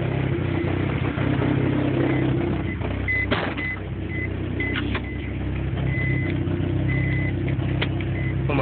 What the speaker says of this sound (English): I actually got my damn car going.